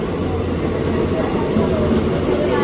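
A moving Chennai Egmore Express passenger train with a P7-class locomotive, heard around Payyanur railway station, gives a steady low rumble of rolling wheels. The noise stays constant throughout.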